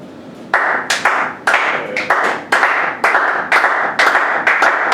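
A church congregation claps along in sharp, close, rhythmic beats with a bright ringing edge, steady and loud with no talk over them.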